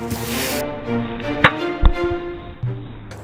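A Bloodborne saw spear replica strikes a coconut, giving two sharp, hard impacts about half a second apart that ring briefly, with duller knocks and handling noise around them; no talk.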